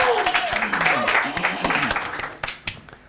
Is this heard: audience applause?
yes